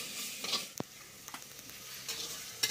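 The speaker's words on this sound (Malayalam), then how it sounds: "അതിനുശേഷം ഇളക്കുക" A spoon scrapes and stirs through a pan of chicken and ash gourd curry with ginger-garlic paste, soft sizzling underneath and a few sharp clinks against the pan.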